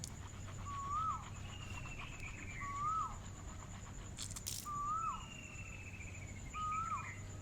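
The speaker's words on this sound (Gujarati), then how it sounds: "કોયલ ટવકા કરે છે અહીં ક્યાં." A koel in a village calls four times at an even pace, each rising and falling note fairly clear over a steady hum of insects and low rural background noise at dawn.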